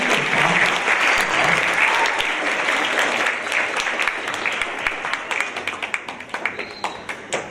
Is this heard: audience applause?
yes